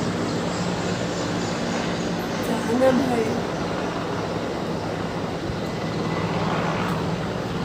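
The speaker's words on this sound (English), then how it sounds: "That was the helicopter," A steady, loud engine roar with a broadband rumble holds throughout as a helicopter flies overhead, with little change in level.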